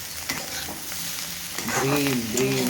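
Onion and egg are gently stirred in a pan over a soft sizzle, with light scrapes and clinks. A tonal hum or squeak rises near the end.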